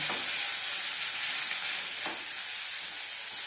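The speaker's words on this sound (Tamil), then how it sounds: "வெங்காயம்லாம் நல்லா ப்ரௌனாக வறுக்கணுங்க" Onions fry in a pan with mustard seeds, pepper, cumin, garlic, curry leaves and dried and green chillies, a steady close sizzle with a couple of brief scrapes of stirring.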